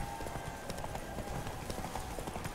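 A horse galloping in the video game The Witcher 3, its hooves clip-clopping in a quick, steady rhythm under faint game music.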